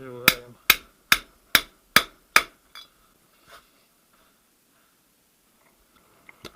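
A bearing is hammered into a VAZ manual gearbox with six sharp, evenly spaced metallic blows close up, followed by a few lighter taps and then near quiet.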